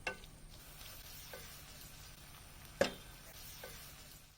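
Sliced onions sautéing in oil with salt for a Kerala chicken biryani gravy, a soft steady sizzle with a couple of sharp spatula clicks against the pan, fairly quiet and close, no talk.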